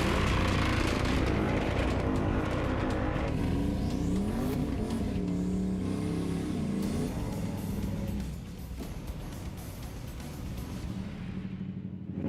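Fast hot rod drag cars roar past at a drag race competition, a loud sustained engine howl with rising and falling revs that fades after several seconds.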